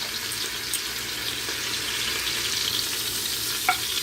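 Chicken thighs sear in an Instant Pot with a steady, close sizzle that runs the whole time, plus one brief clink near the end and no talking.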